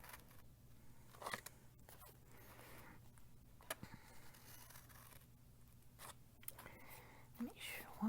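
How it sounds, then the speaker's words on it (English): Scissors cut scored paper for paper flowers, giving quiet, close snips and crisp paper rustles scattered through the clip, with soft talk throughout. "you're just going to cut it along those scored lines there"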